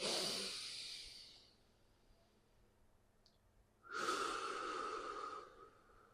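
Deep, audible breaths during an intermediate yoga session, a long inhalation fading out followed by a pause and then a second strong breath, close and loud with no talking.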